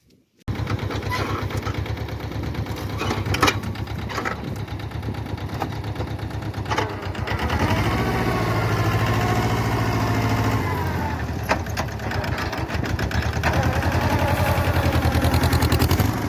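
A Sonalika Jio 245 DI tractor engine chugs steadily and loudly throughout while plowing a field, a continuous rumbling drone with slight changes in load as it works.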